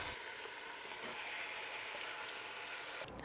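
Dried red peppers sauté in oil until golden brown, producing a soft, steady, unbroken sizzle at a fairly low volume that stops abruptly just before the end.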